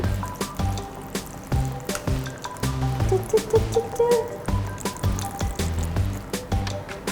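Plain water is poured into a disposable urine bag that turns liquid into gel. Close squishing, dripping and sloshing come in a steady series of short pulses.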